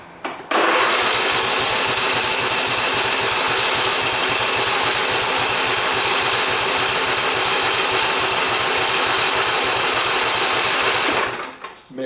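Husqvarna riding mower with a fuel problem cranks continuously for about eleven seconds, a loud, fast, even mechanical chatter up close that never catches and runs, then cuts off abruptly.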